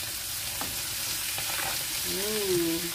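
Asparagus, carrots and peppers hiss steadily in hot oil in a pan beside seafood, a constant close sizzle with occasional stirring scrapes and a brief tonal squeak near the end.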